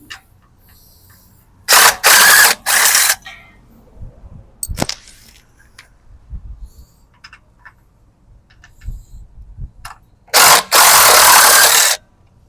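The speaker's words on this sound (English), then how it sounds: "Gotta love power tools." Loud, rattling bursts of a power tool loosening bolts on a trailer tongue jack rip through the quiet in short blasts, several near the start and a longer run toward the end.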